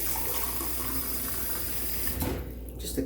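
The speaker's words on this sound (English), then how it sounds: "Let me put some water in my trusty cup here." Tap water runs steadily into a cup, then cuts off abruptly, leaving a few faint drips and handling sounds.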